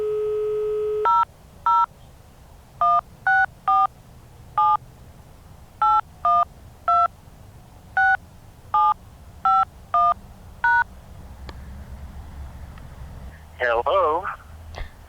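A satellite phone call being placed: a dial tone, then a series of evenly spaced touch-tone beeps, followed by faint line noise and a warbling connection sound.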